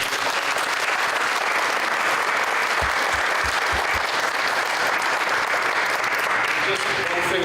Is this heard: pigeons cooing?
no